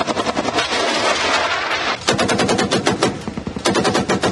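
Machine-gun fire across the ceasefire line in Jammu and Kashmir comes in loud, rapid, crackling bursts that run almost continuously with only brief breaks between volleys.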